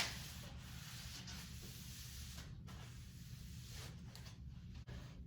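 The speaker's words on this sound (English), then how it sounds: "dampen the cloth, and then I just wipe it down" A cabinet is wiped down with a damp cloth after sanding and vacuuming, ahead of a spray finish, giving a steady, close rubbing swish that runs unbroken with a few brief pauses between strokes.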